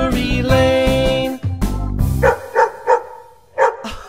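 A dog barks in a children's song setting, several sharp yips in a loose rhythm after a stretch of bright musical tones, fairly close and loud with no talking.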